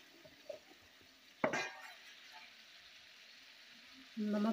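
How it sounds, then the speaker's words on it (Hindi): Tomatoes with a little salt are stirred in a pan for Maggi noodles. A soft sizzle runs under light scraping and one sharp clink of a utensil on the pan, all fairly faint, with louder frying near the end. "इस तरह से चलाते रहेंगे टमाटर को।"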